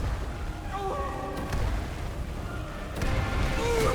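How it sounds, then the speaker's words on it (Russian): Fiery spell blasts in Skyrim as a Breton mage bombards a Dunmer with Incinerate during a hero tournament, two muffled booming bursts about a second and a half apart over a low rumbling game backdrop. "Добежива бомбардирует Динора испепелениями, но у того максимальный резист к огню."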